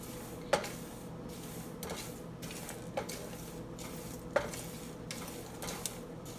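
Biryani masala spices roast in a hot pan, with a soft continuous scraping and stirring broken by sharper utensil knocks against the pan every second or so.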